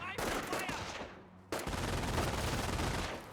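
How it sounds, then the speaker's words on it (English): Sustained automatic gunfire and explosions from the Company of Heroes strategy game, a dense, loud clatter of shots that briefly thins near the middle before a sharp new burst resumes and continues to the end. "MG42 didn't get a good burst off there"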